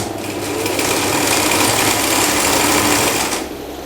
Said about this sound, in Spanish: Empezamos a coser.